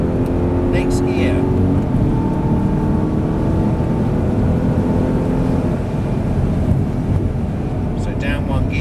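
An Audi R8 on a driving day pulls hard through the gears, a loud, continuous low engine roar with road and wind rumble filling the interior, while an instructor's voice talks over it.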